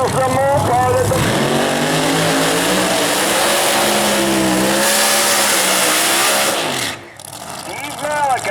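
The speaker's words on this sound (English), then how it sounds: "Wisconsin, 1970 Plymouth Superbird. Big, huge engine in there, obviously." A 1970 Plymouth Superbird drag car with a big electronically fuel-injected engine at a Mopar drag strip event, roaring loud and steady with rising revs for about seven seconds before cutting out briefly, with voices talking over it.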